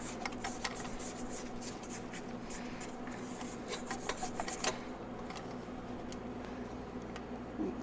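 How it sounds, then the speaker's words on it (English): Spatula scraping around a mixing bowl of whisked carrot cake batter, a steady close rasping rub with brief scuffs, no talking. "Then I'm going to scrape the bowl down."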